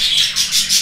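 Budgerigars chirp in a breeding room, a steady bright twittering that swells and fades in three or four quick waves over a low room hum, close and fairly loud with no talk.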